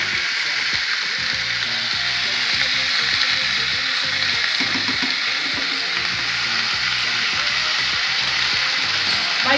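Rump steak fries in a pan with a continuous loud sizzle and crackling spatter, steady throughout with no talk.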